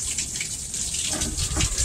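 Water gushes steadily through a car engine's heater core and cooling system during a coolant flush, a continuous close rushing flow that swells louder toward the end.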